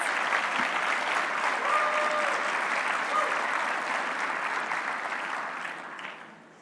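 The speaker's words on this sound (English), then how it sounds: "give a great round of applause to these wonderful, great elected conservatives" An audience at a conservative political gathering gives a sustained round of applause for elected conservatives, with full and even clapping that slowly thins and fades in the last second or two.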